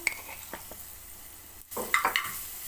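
Garlic, cumin and coriander fry in a little oil in a pan for Egyptian koshari, with soft sizzling, a short pause, then louder stirring clatter and hissing bursts.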